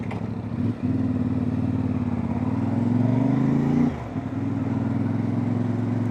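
CFMoto 450MT motorcycle ridden on the road, a steady close engine and exhaust drone with wind noise that rises briefly in pitch as it accelerates, then drops off after a gear change, with no talk.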